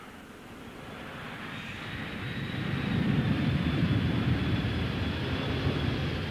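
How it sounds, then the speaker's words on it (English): A 1990 weekly trooper flight carrying 250 people from Brize Norton arrives at the RAF Akrotiri air terminal in Cyprus; a steady jet-engine roar swells over several seconds and then holds loud and constant, with no talk. "the weekly trooper flight with 250 people has just arrived from Brize Norton"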